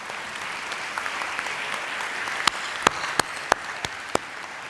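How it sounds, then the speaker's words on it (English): An audience at an ANC education event applauds the lecturers: soft, scattered clapping from a modest crowd, with a handful of sharper, louder individual claps standing out toward the end. "You all could applaud the lecturers."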